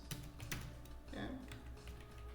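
Computer keyboard keys click in quick, light taps while entering a Power BI formula, with a slightly firmer keystroke for pressing enter, faint and close, with soft background speech.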